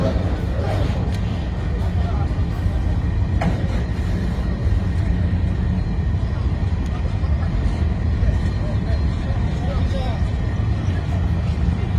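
Train rolling on rails at the Ibadan Dry Port, a steady dense rumble of wheels and wagons that stays continuous and fairly loud throughout, with a murmur of voices in the background.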